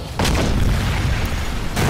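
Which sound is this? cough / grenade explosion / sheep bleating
grenade explosion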